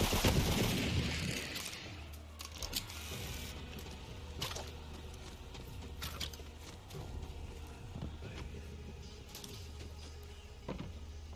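Rapid SMG bursts from a first-person shooter, Borderlands 3, crackle in short volleys over a steady game ambience, loudest at the start and recurring as scattered clusters of shots throughout.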